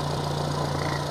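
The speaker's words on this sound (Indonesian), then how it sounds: "Untuk mesin ini suara mesinnya standar normal dan tidak ada kerusakan" A 2008 Nissan Grand Livina XV automatic, a used car in sound condition, idles with a steady, even hum and a low drone underneath. No voices are heard.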